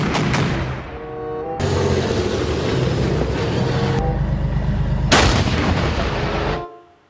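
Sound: toy steel tank firing sound effects

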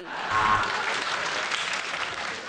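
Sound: applause

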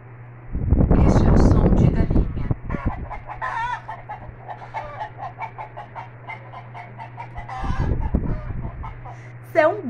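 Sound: rooster crowing sound played by Siri

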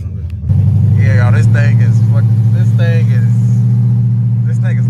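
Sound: Chrysler 300C with long tube headers, loud exhaust

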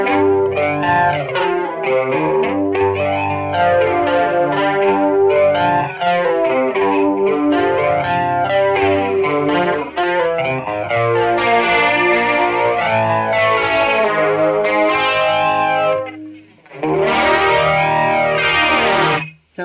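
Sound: electric guitar with flanger effect

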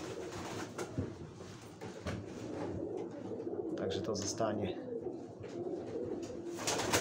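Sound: pigeons cooing

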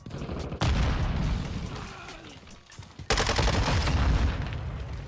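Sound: rocket launcher fire in the video game Call of Duty MW2

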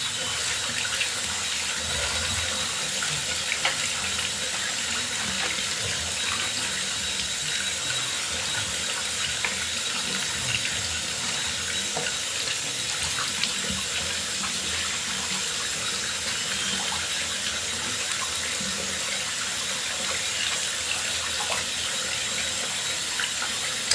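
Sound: running tap water rinsing hair dye out

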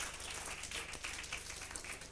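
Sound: audience applause at a pub show

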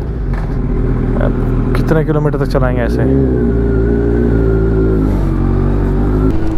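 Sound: Kawasaki Versys 1000 motorcycle engine revving

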